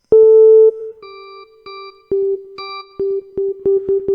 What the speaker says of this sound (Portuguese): você tem o Flugel misturado com, com o som de órgão